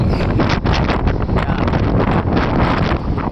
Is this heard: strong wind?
yes